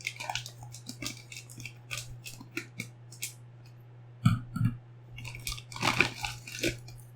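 Plastic packaging around Corsair SF750 PSU cables is opened close up in a run of quiet crinkles, taps and rustles, with a few louder crackles, over a faint steady hum.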